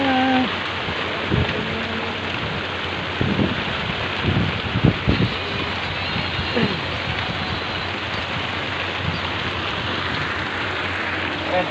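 Rain pours heavily in a loud, continuous hiss, with a few knocks and bumps nearby and no clear speech.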